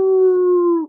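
A human voice imitates high-pitched coyote howls: one sustained, steady wailing tone held close to the microphone, ending in a brief falling fade, alone with no other sounds.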